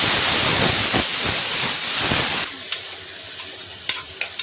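Curry leaves and onions hit hot oil while cooking a goat head curry gravy, giving a loud, steady hiss and sizzle that drops to a softer crackle with scattered pops and stirring taps.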